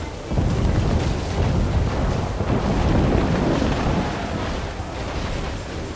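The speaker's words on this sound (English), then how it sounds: "Look, they fire mortars, Captain!" Assassin's Creed IV Black Flag naval combat with mortar fire, a loud continuous rumbling roar of blasts and booming that swells and fades across the whole stretch, with little talk.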